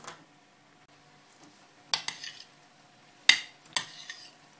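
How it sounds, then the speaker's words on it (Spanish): Chopped pico de gallo ingredients with a teaspoon of salt and lime juice being mixed in a bowl: a few separate scraping, clinking stirs, faint and close, with quiet pauses between. "ahora yo voy a mezclar todo"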